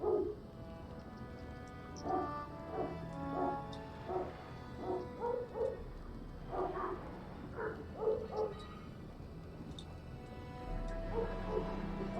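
A dog in a video game barks and yips in a series of short, uneven bursts spread across the stretch, moderately loud over a steady game soundscape.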